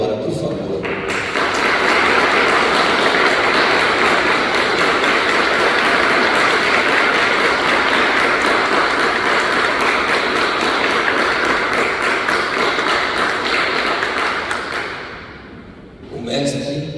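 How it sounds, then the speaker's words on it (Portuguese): An audience at a spiritist gathering claps in a broad sustained wave that starts abruptly, stays loud and dense for most of the stretch, then tapers off near the end. "eu vou pedir que todos vocês, que todos nós, possam dar palmas para ele agora, por favor."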